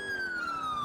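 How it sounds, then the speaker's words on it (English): A police siren from the GTA 4 LCPDFR mod wails in one long, slowly falling electronic tone, fairly close and alone for under a second. "I've changed my siren, as you can hear."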